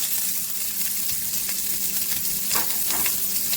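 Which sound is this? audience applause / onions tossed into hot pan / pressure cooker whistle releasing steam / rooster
onions tossed into hot pan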